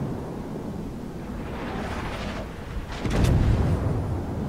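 Heavy naval gunfire from a battleship in the World of Warships video game, turrets firing one after another, heard as rumbling booms with a louder, fuller blast near the end.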